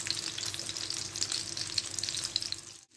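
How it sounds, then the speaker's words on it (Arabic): Burger patties with onions caramelizing alongside sizzle loudly and continuously in a frying pan, a dense bright crackle that cuts off abruptly near the end. "حطيت أنا هنا البصل يتكرمل مع البرجر عشان ياخد من صوص البرجر اللي نازل"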